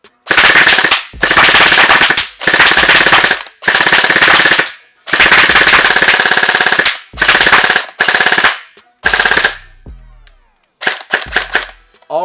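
An Emerbu PDX gel blaster firing on full auto, loud, close bursts of rapid mechanical shots in repeated strings of about a second each, separated by short gaps, ending in a few sputtering, broken shots as it runs dry.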